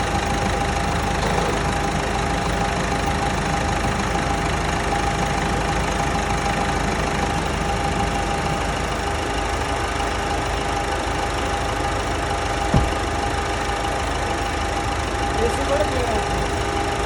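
A Ford EcoSport car engine idles steadily during a carbon-cleaning treatment, a constant even hum with one brief knock near the end and no talk over it.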